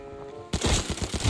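Rapid bursts of gunfire in the game Arena Breakout erupt after a brief quiet stretch, a loud fast rattle of repeated shots continuing to the end.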